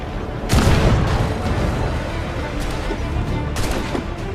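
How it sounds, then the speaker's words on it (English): Swivel gun aboard a smaller ship during a boarding fight in Assassin's Creed Black Flag: two heavy booming blasts a few seconds apart, loud and close, over a constant rumbling battle ambience. "since this is a smaller ship, the swivel gun is very efficient"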